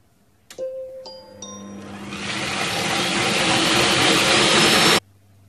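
A kitchen robot on a quick-clean program chimes a few rising dings, then its motor whirs up into a loud, steady rushing hum that cuts off abruptly after a few seconds.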